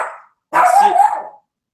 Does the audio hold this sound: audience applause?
no